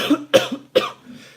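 Three sharp coughs in quick succession, close and fairly loud, with brief quiet gaps between them.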